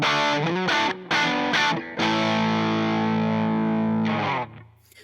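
Electric guitar played through an MT10 gain pedal for a gritty, distorted tone: a few choppy strummed chords, then one chord left ringing and sustaining before it fades out.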